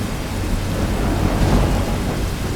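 Heavy rain pours with a deep, continuous rumble of thunder swelling near the middle, a steady dense wash with no voices.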